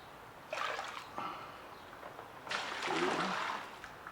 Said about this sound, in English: So I'm going to put a little bit of water in first.